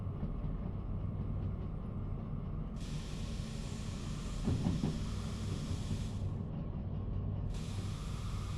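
A train rolls on rails in the Derail Valley video game with a steady, close rumble. A broad hiss layered on top cuts in and out. No one speaks.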